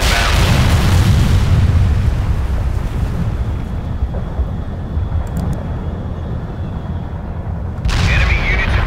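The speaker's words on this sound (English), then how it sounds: "Artillery barrage inbound." Heavy, sustained rumbling from an artillery barrage in the World in Conflict game, a dense roar of overlapping explosions that dips slightly midway and surges again near the end.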